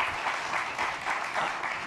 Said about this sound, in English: We could applaud that.